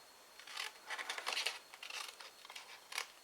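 Scissors cutting through bookmark card along a score line, a close series of crisp snipping and rustling strokes in a steady rhythm, quiet and alone.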